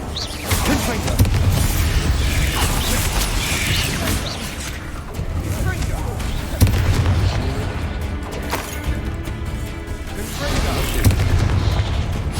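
Explosive booms from a Confringo blasting spell in a Harry Potter video game, several heavy blasts over a continuous dense roar of game effects, with a voice occasionally shouting over them.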